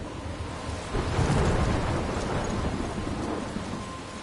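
Thunderstorm in the video game Life is Strange: a low rolling thunder rumble swelling to a peak then fading, over a steady hiss of heavy rain.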